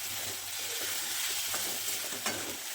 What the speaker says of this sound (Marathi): तर आता हे चांगलं परतून घ्यायचंय अगदी 1-2 मिनिटासाठी.